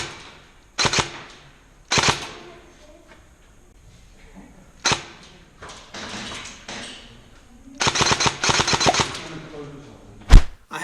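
A G&G RK74-E airsoft rifle running on an 11.1 V battery fires several rapid full-auto bursts, each a sharp, close, loud rattle, separated by quieter pauses and ending with a single hard pop.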